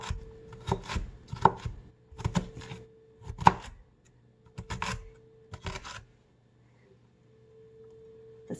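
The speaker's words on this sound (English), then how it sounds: "So let's get the rest of them cut up. Okay, there we go. That's all of our celery." A knife chops celery stalks into small pieces on a cutting board, with close, sharp, irregular bursts of cutting that fall silent near the end.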